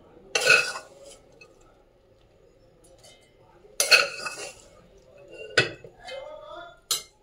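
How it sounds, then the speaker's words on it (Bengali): Chillies tipped into a mixer jar give several sharp clattering knocks and clinks, spaced apart with quiet gaps between them, close by and fairly loud. "মিক্সার জারের মধ্যে লঙ্কাগুলো কিন্তু সব ঢেলে দেবো।"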